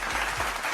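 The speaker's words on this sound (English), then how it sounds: "Give them another round of applause." A short burst of audience clapping for an orchestra at a corporate CEO forum, loud and continuous through the brief moment.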